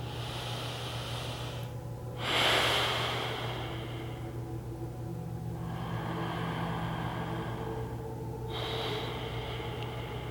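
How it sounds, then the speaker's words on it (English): Slow, deep breaths during a yoga session, a long airy inhale and exhale audible over a steady low hum, fairly close and unaccompanied by speech. "go slow and find 2 more full breaths here"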